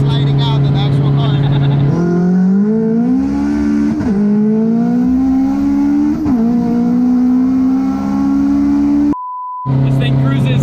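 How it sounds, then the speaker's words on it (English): A 1050 hp all-wheel-drive Honda Civic hatchback cruises on a highway, its engine a loud, steady drone inside the cabin with a few pitch rises from throttle changes and a brief beep near the end; someone speaks over it. "This thing cruises surprisingly sweet on the highway."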